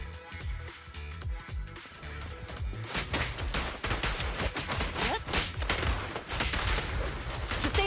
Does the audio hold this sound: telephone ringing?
no